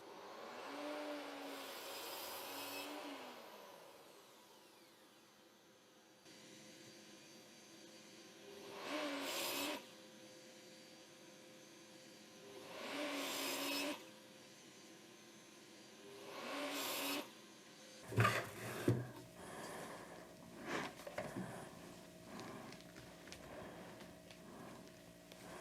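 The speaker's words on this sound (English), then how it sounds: "For me, the quickest way is to use the miter saw" A miter saw cutting MDF makes four separate whining cuts, each a loud burst rising from a quiet motor hum, then a dust extractor or vacuum roars in rough, noisy surges toward the end.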